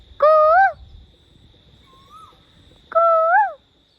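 A person imitates an Asian koel in an open paddy field at evening, giving two loud, rising whistled calls about three seconds apart, with a faint answering whistle between them and a steady high tone running throughout.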